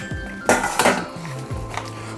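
Metal pots, pans and dishes clatter and clink in a home kitchen being cleaned after frying fish, with several sharp knocks and scrapes close by and no talking.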